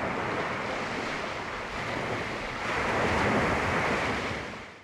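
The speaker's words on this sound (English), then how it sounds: "And then you hear the ocean waves." Ocean waves wash in a continuous roar of surf, swelling slightly toward the end before trailing off, with some wind-like rumble and no speech.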